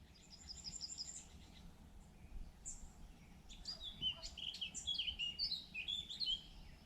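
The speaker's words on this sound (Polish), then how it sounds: "Rozśpiewane ptaszki." Small birds chirp and trill in bursts against a quiet outdoor background by Sulejów Reservoir in the morning, the song growing busier toward the end.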